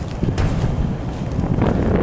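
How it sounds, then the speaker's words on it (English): Steady wind buffeting the microphone atop a parking garage, a constant low rumble with gusty swells throughout. "It's a bit windy up here too."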